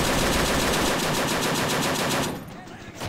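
Heavy .50 caliber machine gun in the war game Men of War: Assault Squad 2, firing a loud, rapid, unbroken burst for over two seconds before cutting off into echoing quiet.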